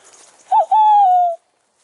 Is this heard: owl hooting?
yes